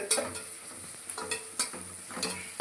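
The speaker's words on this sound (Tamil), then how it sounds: "இப்போ நம்மளுக்கு வெங்காயம் வெந்து வர போகுது" Onions fry in a pan for fish curry, a soft continuous sizzle punctuated by several sharp stirring scrapes of a spoon at irregular intervals.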